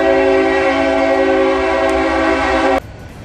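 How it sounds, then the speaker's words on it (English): A train's horn blows loud and steady at close range, a long sustained chord over the rumble of the passing train, then cuts off abruptly and leaves a faint rolling rumble. "now that the train has quit blowing its horn"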